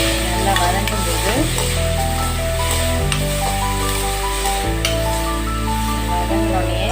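Steady, continuous sizzling of salted greens sautéing in a hot pan, close and fairly loud, with occasional stirring scrapes and no voices.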